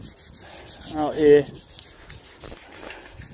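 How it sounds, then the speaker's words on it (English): Wet sandpaper rubs over primer on a Raleigh Burner bicycle frame outdoors, a short rasping burst of strokes near the microphone, with a few words spoken. "sanding it down"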